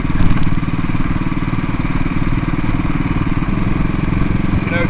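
A CCM Bobber motorcycle rides on the road, its engine a loud, steady, throbbing drone that stays close and continuous throughout, with a brief surge at the start.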